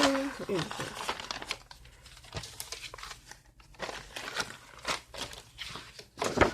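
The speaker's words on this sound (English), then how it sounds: "Packing paper." Sheets of packing paper crumpled and folded by hand for a junk journal, giving dry crinkling rustles in irregular bursts close by, with a voice heard briefly at the start.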